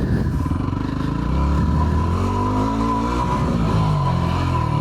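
A Yamaha WR250R motorcycle engine lugs at low revs in first gear on a dirt trail, a steady rough, chugging thrum with some clatter, close and continuous throughout.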